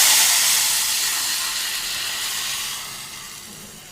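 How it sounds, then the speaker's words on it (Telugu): Thin lentil soup poured into a sizzling tempering for a Telangana-style pesara pappu charu: a loud, steady steam hiss and sizzle that fades gradually over a few seconds, with no voices. "ఈ తాలింపు చారుని తీసుకెళ్ళి ఈ తాలింపులో పోసేసుకుందాం"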